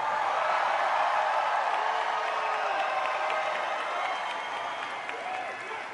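A large rally crowd in Pensacola, Florida, applauds in a dense, sustained wash of clapping and cheering that fills the space and fades slightly toward the end.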